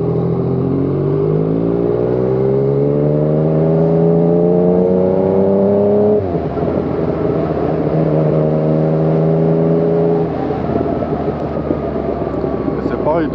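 Yamaha MT-09 motorcycle with an Arrow exhaust and quickshifter revs up through rising engine tones, snaps into a quick gear change near the middle, then pulls hard again, loud and continuous throughout.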